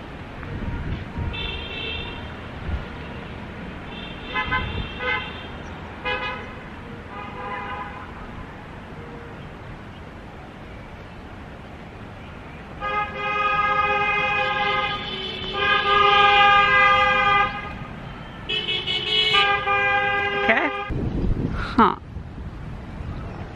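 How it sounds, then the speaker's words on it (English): Car horns honk in small-town traffic: repeated tooting bursts of differing lengths, sparse at first, then several overlapping horns blaring together near the end over steady outdoor wind noise. "Bunch of weird honking."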